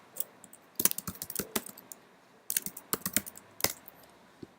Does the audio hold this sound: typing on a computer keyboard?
yes